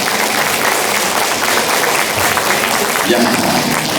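Audience at a political talk concert in Busan applauds to welcome the host, a steady dense wash of clapping that holds loud throughout, with voices faintly mixed beneath.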